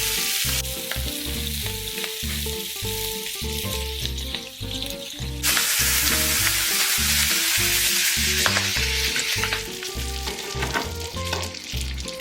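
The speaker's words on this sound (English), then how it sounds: "Scoop about 2 cups of sisig onto the hot metal pan and let it fry for about a minute" Pork sisig fries loudly on a hot metal pan, a constant dense sizzle with rhythmic scraping and stirring strokes, close up and with no talk.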